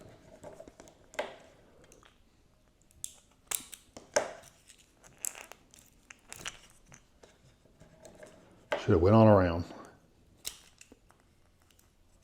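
Scissors snip through a plastic straw among light handling clicks and taps, ending in a louder, longer crunching cut; a person speaks briefly.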